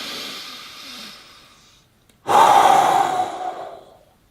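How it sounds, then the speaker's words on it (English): Two forceful breaths, close and loud: a long airy exhale fading out, a brief pause, then a sudden strong rushing breath that slowly tapers off. "Breathe forcefully."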